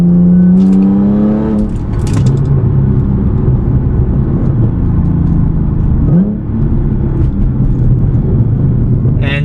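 Very loud car exhaust with a muffler delete, a deep droning rumble under steady driving with short revving rises and shifts, close and heavy throughout.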